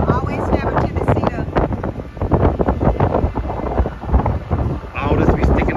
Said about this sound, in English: I know it's windy.